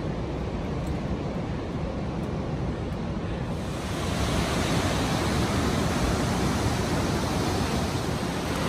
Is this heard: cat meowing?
no